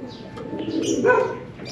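A Taiwan racing pigeon coos close by, one short soft throaty call heard alone and clearly.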